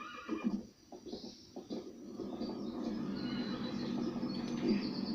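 A horse neighs in the LEGO City Undercover video game, a loud whinny at the start that fades under steady background ambience with faint bird chirps.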